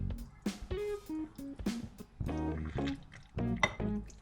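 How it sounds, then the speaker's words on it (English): Vinegar pours into a jar packed with fresh garlic and chilli for an Italian-style garlic chilli oil, giving close, intermittent liquid gurgles and glugs in short bursts, with no talking. "now pour the vinegar inside."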